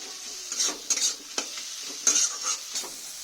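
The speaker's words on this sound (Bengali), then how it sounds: "একটু সামান্য তেল দিলাম, দিয়ে একটু ভালো করে আমি কষে নেব সব উপকরণগুলো" Spices and ingredients for a soybean and egg dish fry in a little oil, sizzling softly while a spatula scrapes and stirs in short, irregular bursts close by.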